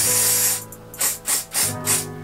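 Four short hissing bursts of hair spray from an aerosol can, sprayed onto wig lace, close and loud, spaced about half a second apart.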